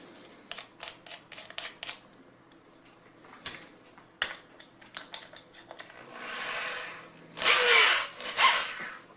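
A power drill with a sanding mandrel is fitted, shaping foam rubber for a motorcycle saddle seat: a run of clicks and clatter of changing the mandrel, then the drill whirs in two loud bursts near the end.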